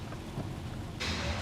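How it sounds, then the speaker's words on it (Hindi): Heavy rain pours down with a low rumble of thunder beneath it, the hiss of rainfall becoming noticeably louder and denser partway through; distant and fairly quiet, with no voices. "बहुत बारिश हो गई है।"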